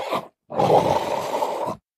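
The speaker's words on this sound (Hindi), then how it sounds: "एक दोपहर लियो अपनी रोजाना की नींद से जागा और दहाड़ने की कोशिश करने लगा।" A lion's attempted roar comes out weak and hoarse: a short grunt, then a longer, rough, strained growl lasting over a second, close and fairly quiet.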